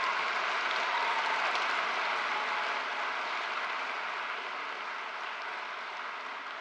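Large audience at a high school graduation ceremony applauding steadily, a dense, even wash of clapping from many hands that holds at a constant level for the whole stretch with no talk.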